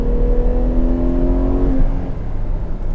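Ferrari 812 Competizione V12 on the Fiorano track in tricky conditions, engine revving loud and close, its rising tone dropping away sharply near the end as the car eases off.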